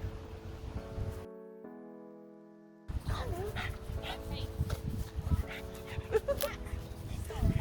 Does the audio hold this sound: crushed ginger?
no